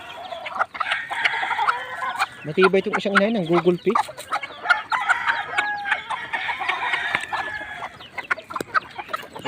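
White curl chicks and hens at feeding time on a small backyard poultry farm, with steady nearby clucking and chick peeps throughout and a short louder call in the middle, while someone talks over them.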